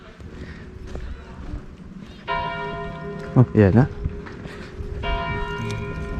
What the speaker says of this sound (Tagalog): Tumunog na yung kampana.